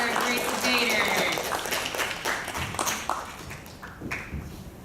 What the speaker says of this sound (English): let's do another round of applause for our great debaters.